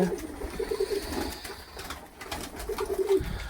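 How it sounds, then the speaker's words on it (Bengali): Loft pigeons, both adults and young birds, are being fed outside in the morning while rain falls again. Close, repeated throaty coos come in two bursts over a rough, noisy background. "এই যে সব কবুতর, এই যেগুলা বাইরে ছেড়ে রেখে দিচ্ছি, পাট্টা কবুতর, বাচ্চা কবুতর, এইগুলা এইখানে খাবার খেতে দেওয়া হচ্ছে এদেরকে।"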